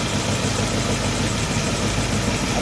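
A car engine idles steadily after a dual alternator install, a close, even, low rumble with a constant hum and no talk.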